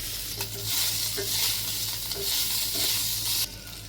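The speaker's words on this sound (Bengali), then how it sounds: "মাংসটা এখানে রসুনের সাথে খুব ভালো করে ভেজে নিব।" Beef pieces frying with browned chopped garlic in hot oil, a steady loud sizzle with intermittent stirring scrapes and clinks of a utensil against the pan throughout.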